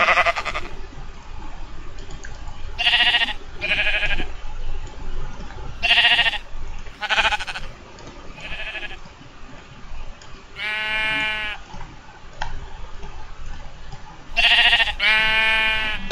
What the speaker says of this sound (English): these sheep are like annoying.